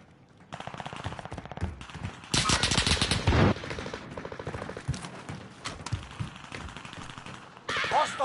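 Rapid automatic gunfire in the video game Warzone on Rebirth Island, bursts of shots cracking repeatedly with a loud sustained barrage in the middle, under light background game sounds.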